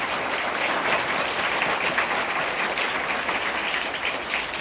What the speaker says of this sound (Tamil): எங்கே உங்களுக்கு ஒரு பலத்த கரகோஷம்